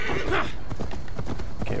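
A horse in the video game Assassin's Creed Valhalla clip-clops along with steady hoofbeats, and a neigh rises early on, all close and fairly loud.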